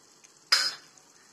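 Ginger garlic paste and turmeric hit a hot pan with a short burst of sizzling and a spoon scrape, fading within a fraction of a second over a quiet steady hiss.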